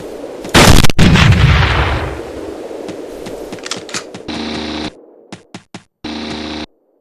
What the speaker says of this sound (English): it makes sense to use the shotgun